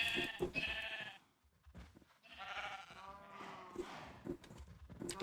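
Sheep in a farming video game bleat repeatedly in short, wavering calls, fairly quiet, with a few softer bleats and brief gaps between them.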